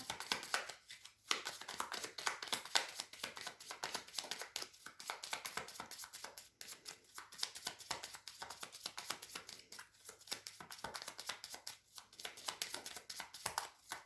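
Tarot cards are shuffled by hand close up, a continuous run of quick, soft riffling flutters and papery taps with brief pauses between bursts, fairly quiet and without talk.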